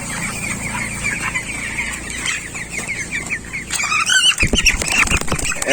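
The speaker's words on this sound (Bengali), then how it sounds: "এখান থেকে দশটি মুরগি আমি ধরবো" Several chickens of mixed sizes, around seventeen days old, squawk and flutter as they are caught by hand for weighing, with rustling and scuffling growing louder and busier toward the end.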